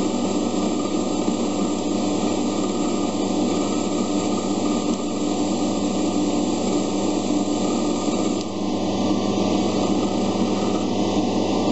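A metalworking milling machine or lathe running steadily, a loud continuous mechanical whine and hum with no talking, while a chuck key for a dividing plate is being made.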